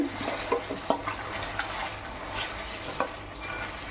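Chicken curry being stirred in a cooking pot, with a steady sizzle of frying under scraping and clinking strokes of the spoon against the pot, close up and without any voices.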